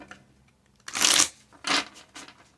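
Tarot cards are shuffled close up in three quick riffling bursts separated by short pauses, with no talking.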